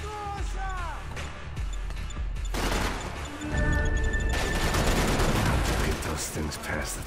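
Gunfire in the shooter game Max Payne 3 cracks out in scattered bursts and single shots over a busy game soundscape, with a denser, louder barrage in the second half.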